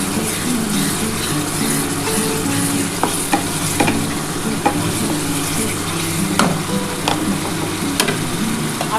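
Spice masala frying in a pan for a pomfret and potato curry, a steady close sizzle with repeated scraping knocks of stirring spread throughout.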